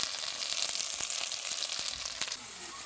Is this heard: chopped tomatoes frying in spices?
yes